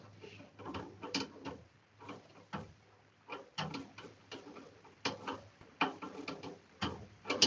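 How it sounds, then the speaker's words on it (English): A screw is hand-threaded into a Lian Li Lancool 216 PC case, producing a series of soft, close, irregular clicks and small metallic ticks at low volume. "I'm turning to the left very lightly, and I'm waiting to hear a click"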